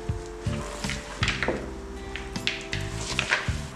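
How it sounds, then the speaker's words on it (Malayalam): Cake batter for an eggless plum cake is stirred with chopped cashew nuts, giving repeated soft thuds and scrapes of a spoon against the bowl in an uneven rhythm, close and moderately loud. "മിക്സ് ചെയ്ത് കൊടുക്കാം."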